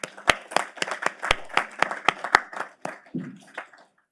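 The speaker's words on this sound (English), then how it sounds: "So I want to give them a round of applause as well." A small group at a Board of Education meeting claps by hand, sharp distinct claps in a loose, uneven rhythm that thin out and fade to silence near the end.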